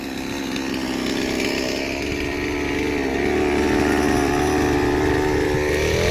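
A chainsaw cuts dry wood from fallen eucalyptus trees in a farm field, its loud, close engine whine running continuously and rising in pitch as it bites.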